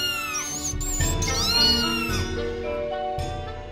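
A cat meows in one long, drawn-out wavering cry that rises and falls, followed by a shorter meow, close and clear.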